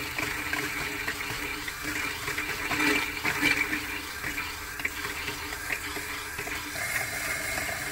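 Water rushes steadily through the plumbing lines of a long camper being winterized with pink antifreeze, a continuous close hiss and gurgle like a running tap, with no talk.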